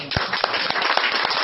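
A crowd at a neighbourhood assembly in Villa Lynch, San Martín gives a brief burst of dense, close applause with a few sharper claps standing out.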